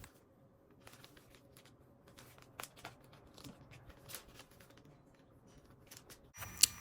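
Rotary cutter slicing through corduroy fabric, a series of faint, crisp crunching cuts with scattered quiet clicks, close and soft, ending in a brief louder rustle.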